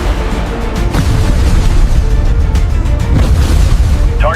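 A warship's defensive guns fire a volley at incoming drones, heavy booms and bursts layered over a loud continuous roar, with several sharp reports close together.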